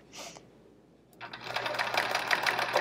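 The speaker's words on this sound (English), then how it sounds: "Free motion quilting" Sewing machine running for free motion quilting, a rapid close mechanical rattle of stitching that starts after a brief pause and speeds up into a steady continuous buzz.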